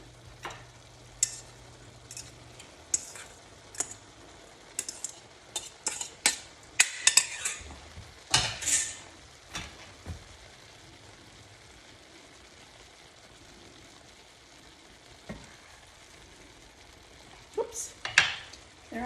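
Hamburger meat and tender potatoes are stirred together in one pot, with scattered scrapes and clinks of a utensil against the pot over a faint sizzle, busiest in the middle, then quiet stretches.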